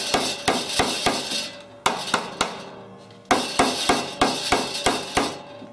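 A dry-fitted 4x4 post is pounded into a wooden planter box, giving a run of sharp, loud hammer strikes in two bursts of about six blows each, with a brief pause between them and metallic ringing after each hit.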